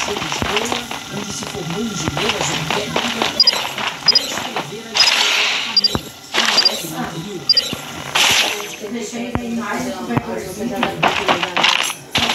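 Weapon reloading in the video game Farlight 84, a series of quick metallic clicks and clinks of a magazine and mechanism, close and fairly loud among game effects, with a voice speaking in between.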